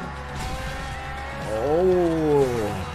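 A car in the Forza Horizon racing game: a steady engine drone, then tires squeal in a rising and falling wail during a hard turn, loud and close.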